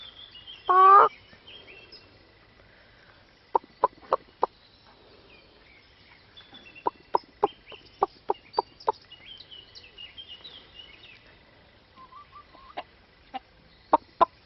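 Chickens and a cockerel at a campsite near Canterbury give a loud squawk followed by bursts of rapid clucking, several clusters of sharp calls over a quiet background, fairly close.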